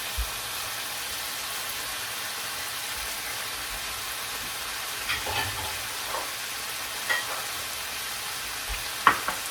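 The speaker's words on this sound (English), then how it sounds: "Next, I'm going to put the corn." Corn goes into a sizzling pan for pizza-style loaded eggs, giving a steady, even hiss of frying throughout with a few faint scrapes and taps near the end.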